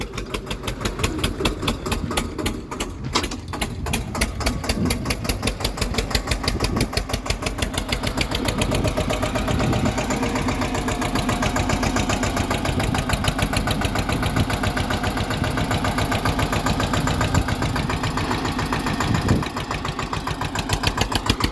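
An Eicher 241 Super 25 HP tractor engine pulling a cultivator chugs loudly and continuously with a rapid, throbbing rhythm, running steadily at close range throughout.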